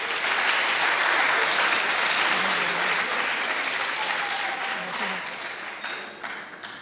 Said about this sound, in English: Shall we give them a big round of applause?